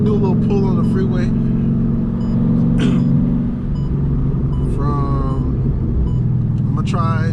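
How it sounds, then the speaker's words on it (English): 2003 Mustang GT pulling hard on a freeway, heard from inside as a loud steady engine rumble and road roar throughout, with someone talking over it. "I guess I'm gonna do a little pull on the freeway"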